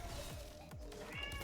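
Several cats meow in short, rising-and-falling calls, roughly four of them, under a constant background hum and a faint sustained tone.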